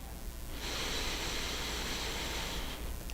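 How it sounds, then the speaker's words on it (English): Deep breathing during a yoga session, a long, steady airy breath that swells for a couple of seconds and then fades, soft and close with no talking. "breathing deeply"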